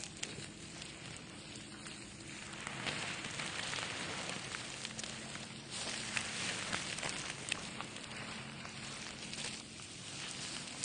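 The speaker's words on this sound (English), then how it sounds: "So first we start with the rain." Steady rain patters across a surface, a dense continuous hiss with scattered droplet ticks, moderately quiet and even throughout.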